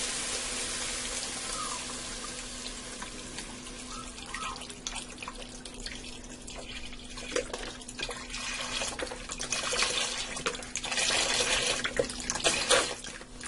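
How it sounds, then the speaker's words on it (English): Beef broth pours steadily into a pot with a continuous splashing, gurgling rush that grows a little louder toward the end, with a faint steady hum underneath. "Now to this I'm going to add 2 32-ounce boxes of beef broth"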